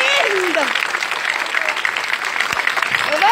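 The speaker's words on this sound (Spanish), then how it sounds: "Estoy con un montón de gente que aplaude bonito." Applause from a crowd at a live comedy show in Tekanto, dense clapping filling the clip with a voice talking over it.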